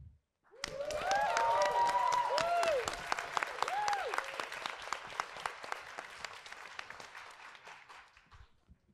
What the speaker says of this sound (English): you guys are just gonna clap as loud as you think their placing deserves